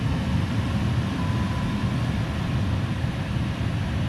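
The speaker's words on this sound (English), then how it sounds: "And I'm going to turn on the heat." A car's heater blower fan runs after the key is switched on, giving a steady, even rush of air that stays at one level and is heard on its own, with no talk.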